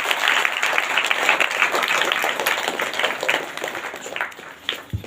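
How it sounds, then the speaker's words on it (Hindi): Applause from a church congregation giving thanks to the Lord, a dense steady clatter of many hands sustained throughout and tapering slightly near the end. "जोरदार ताली से प्रभु धन्यवाद।"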